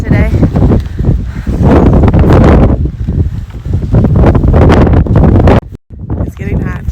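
Gusty wind buffeting the microphone on a hiking trail, a loud steady rumble that dips out briefly near the end, with a voice talking over it.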